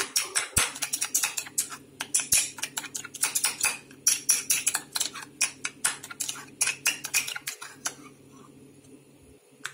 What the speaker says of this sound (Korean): 잘 섞어서